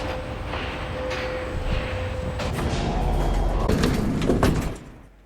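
Elevator doors in the video game L.A. Noire slide with a rising, rumbling mechanical whir that swells steadily, then stops abruptly near the end.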